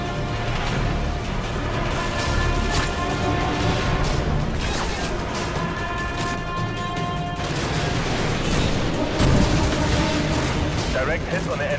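Missile strike on an enemy helicopter in Call of Duty Modern Warfare 2, the Contingency mission: dense, loud booming explosions and crashing debris under a constant roar of battle, with a fresh blast surging near the end.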